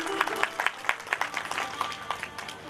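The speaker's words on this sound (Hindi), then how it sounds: "ताली बजाइए एक बार उनके लिए।" A small audience at a Shrimad Bhagwat Katha religious gathering gives a brief round of light, scattered clapping that fades within a few seconds.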